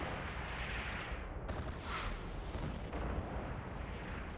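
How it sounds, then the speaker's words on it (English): Heavy weapon volleys boom in the space game EVE Online, a dense, loud barrage of deep blasts with sharper bursts breaking through around the middle and again near the end. "Big volleys do a lot of damage."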